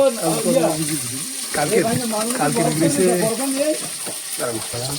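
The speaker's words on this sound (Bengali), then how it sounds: "এই যে দেখো দাদা দেখো মাছ ভাজা করছে দেখো" Fresh river fish frying in oil outdoors in the Sundarbans, with a steady, moderate sizzle that runs continuously under close, ongoing talk.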